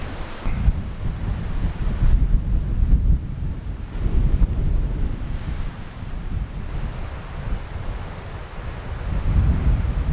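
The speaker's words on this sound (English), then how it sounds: "It is windy" Outdoor wind near a castle on a cloudy day, a continuous low rumbling gust buffeting the microphone for the whole stretch, rising and falling slightly, with no talk.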